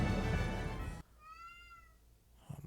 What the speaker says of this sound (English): Oh, my cat's crying at the door again.